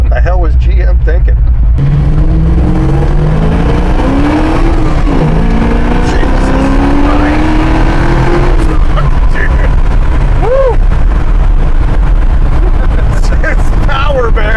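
A 1969 Chevrolet El Camino Super Sport with an LS 427 engine and Tremec manual transmission runs on a dyno, its loud engine note climbing steadily through a long pull before cutting off, with people talking over and after it.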